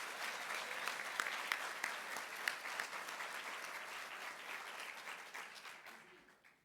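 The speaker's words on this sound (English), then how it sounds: "let's give them all a round of applause" An audience at a community event for early learning gives a round of applause to the class participants, with steady, dense clapping that holds, then thins and fades away.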